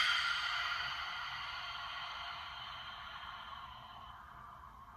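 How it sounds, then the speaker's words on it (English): A yogic ocean breath, a long exhale pushed through a constricted throat, forms a steady breathy hiss that fades gently over about five seconds, close and alone. "We're going to do a type of breath called ocean breath."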